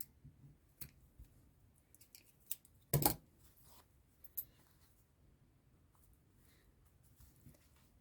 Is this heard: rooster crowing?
no